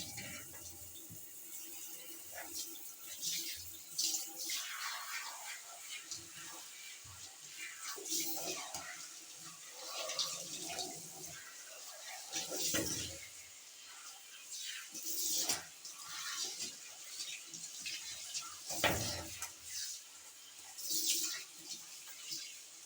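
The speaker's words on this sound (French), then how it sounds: "Ensuite je vais rincer. Comme d'habitude, pas trop chaud." Tap water runs steadily to rinse conditioned hair, splashing and gurgling as it falls, fairly quiet and close, with changes in flow as the hair is moved under it.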